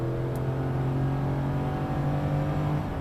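A heavy W163 Mercedes ML SUV accelerating hard toward 6,000 RPM, its engine a steady, loud drone with a strong low hum that holds throughout, heard from inside the cabin without talk.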